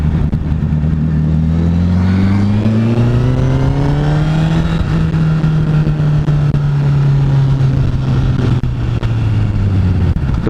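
A 2016 Honda CBR1000RR Fireblade SP with an inline-four engine revs loud and close on a ride. The pitch climbs smoothly, holds a high wail, then sags slightly over steady wind rush, with no talk.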